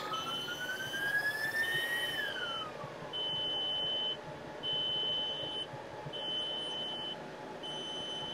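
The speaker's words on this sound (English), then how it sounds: "The beeps could be the fact that it doesn't have all four power supplies well, connected." A computer power supply sounds an electronic tone that slides upward then drops, followed by a series of short, evenly spaced high beeps over a low steady hum, on a rig with liquid-cooled NVIDIA 4090 GPUs not fully connected to its four power supplies.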